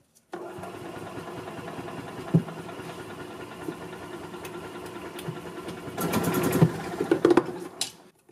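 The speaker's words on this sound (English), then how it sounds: "Okay, so if I step on it, give it fuel." A 2004 Club Car Precedent gas golf cart engine, which has an intermittent crank fault and a bad solenoid, chugs and runs with a steady rattling drone, then revs louder with a few sharp knocks near the end.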